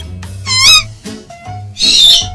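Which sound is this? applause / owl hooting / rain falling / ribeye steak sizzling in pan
owl hooting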